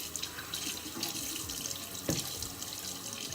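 Tap water runs steadily into a sink while someone washes their face, a continuous close splashing rush with small spatters and one sharper splash midway.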